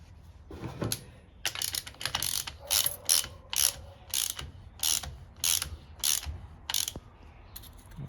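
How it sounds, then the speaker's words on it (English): A ratcheting cam chain tensioner being fitted into a Triumph Bobber engine during a top-end rebuild gives a rapid series of close, sharp mechanical clicks in short bursts, with gear movement audible and no talking. "You see the gear moving around as I insert the tensioner."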